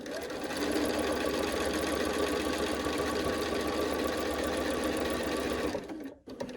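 A sewing machine runs a quilt block seam in one long, steady whirring burst close by, then stops abruptly near the end with a short clunk.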